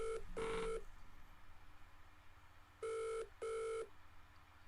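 Telephone keypad dialing tones during a game-show phone-a-friend lifeline: a short pair of beeps, a pause, then two more steady electronic tones, clear and close against a quiet background.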